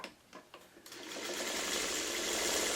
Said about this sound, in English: I'm just going to run a 1/4 inch seam all the way through